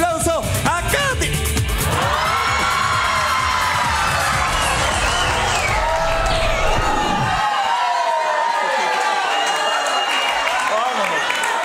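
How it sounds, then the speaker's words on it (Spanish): On a talent show stage, a studio audience erupts in loud cheering, whooping and applause to welcome a judge, with high-pitched shouts and a voice riding over the dense roar. "le damos la bienvenida con un fuerte aplauso a Katy"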